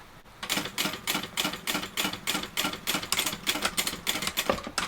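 A sewing machine stitches the seam of a small Pomme mini tote bag, giving a steady run of quick, evenly spaced mechanical ticks that hold a constant pace for several seconds, close and alone.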